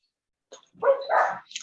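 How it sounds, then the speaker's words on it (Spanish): A dog gives a couple of short, close barks with a brief yip, sounding suddenly over a quiet background during an online class. "Va el perro."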